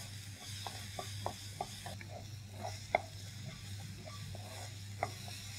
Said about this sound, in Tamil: கை விடாமல் வந்து இதை கிண்டிகிட்டே இருங்க.